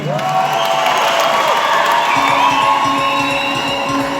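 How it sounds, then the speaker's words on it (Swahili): Audience at a church conference breaks into loud, sustained clapping and cheering, with whoops and shouts rising over dense crowd applause throughout. "Sasa tupigie makofi"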